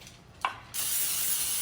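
Cooking spray hisses into a 9x13 baking pan in one steady, close spray lasting about a second, after a small click from the can, with no talking.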